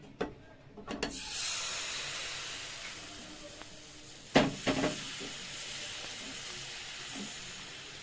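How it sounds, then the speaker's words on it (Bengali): Patisapta batter poured into a hot, oil-brushed wok breaks into a steady sizzle that fades slowly. A few faint clinks of a utensil sound near the start and midway, and no one speaks. "কড়াইতে তেল ব্রাশ করে নিয়েছি, এবার ব্যাটারটা দিয়ে দিচ্ছি"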